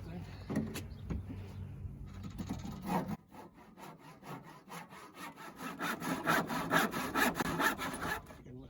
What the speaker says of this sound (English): what do we cut these with? You might have to handsaw them. Or jigsaw.